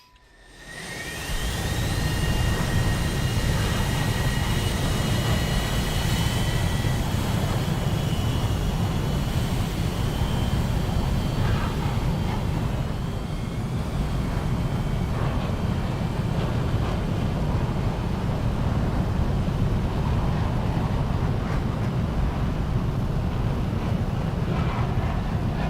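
Jet aircraft engine roaring steadily in an Air Realistic Battles combat flight game, a loud continuous drone with wind rush and a faint whine, heard alone without talk for the whole stretch.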